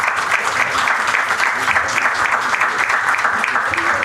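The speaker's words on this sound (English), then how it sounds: "Please give a big round of applause for our speakers." Loud, steady crowd applause for panel speakers at an AI and Indian pharma event, dense clapping sustained throughout.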